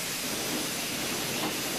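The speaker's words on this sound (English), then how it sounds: "So I turned it upside down and I sprayed for a few seconds to clear that nozzle." Can of spray adhesive held upside down and sprayed for a few seconds to clear its nozzle, giving a steady, close, broadband hiss with no break and no voices.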